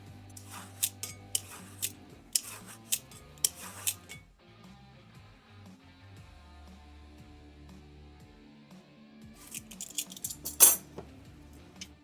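A knife slices the top and bottom ends off a zucchini in a home kitchen. Crisp, evenly spaced taps land on the board, then a second short cluster of sharper cuts follows, all over a quiet tonal background.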